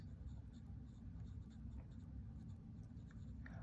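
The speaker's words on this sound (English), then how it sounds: "I am actually making a series of small circles, and I'm doing this in the 2H pencil." A 2H pencil scratches a steady series of tiny circles on paper, a soft continuous close-up graphite scrape with no talking.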